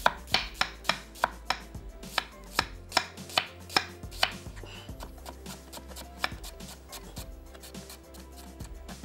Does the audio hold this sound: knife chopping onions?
yes